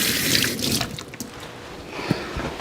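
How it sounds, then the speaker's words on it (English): Running tap water splashes over a pepper being rinsed at a kitchen sink, a close, uneven splashing and trickling that shifts as the pepper turns under the stream, with a brief knock near the end. "I give that a quick rinse."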